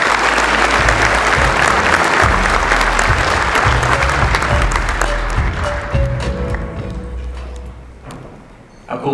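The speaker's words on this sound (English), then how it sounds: "Let's give IGA and John another round of applause." Audience applause at a trade keynote award presentation, loud dense clapping over low music that tapers off toward the end.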